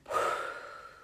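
A single forceful breath pushed out hard, opening with a sharp rush of air that trails off into a long, fading exhale.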